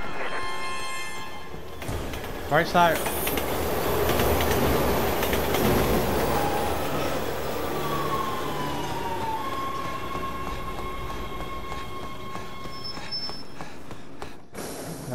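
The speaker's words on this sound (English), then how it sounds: "Look out! Train!" A train thunders past in the co-op game Resident Evil 6, a loud rumbling rush with clattering wheels that builds and holds for several seconds, then ends with a screech, while a player speaks briefly.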